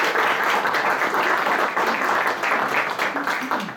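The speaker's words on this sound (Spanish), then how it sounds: "Un aplauso, por favor." Audience applause at a university lecture in La Paz, Bolivia, a dense steady wash of many hands clapping that runs for the whole stretch and thins slightly toward the end.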